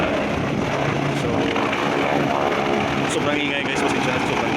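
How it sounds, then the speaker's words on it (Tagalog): Helicopter landing on a ship's deck, its engine and rotor producing a loud, continuous roar that fills the whole stretch, with wind noise and people talking underneath. "maglaland na yung helicopter sa aming barko"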